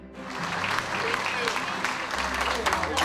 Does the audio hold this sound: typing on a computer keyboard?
no